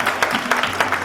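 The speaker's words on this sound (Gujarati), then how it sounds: "તો એકવાર બાળકો માટે પણ જોરદાર તાળીઓ આપણે પાડીશું." Audience at a Swaminarayan Hindu temple culture program in Allentown clapping for the children, a steady patter of handclaps with regular loud bursts, fairly close.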